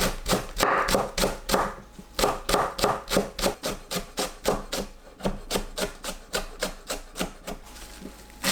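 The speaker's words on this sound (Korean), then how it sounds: "파 흰 부분을 작게 썰어줍니다" A knife chops the white part of green onion on a cutting board in rapid, steady strokes, each a crisp close knock with a brief slicing scrape, running continuously with no talking.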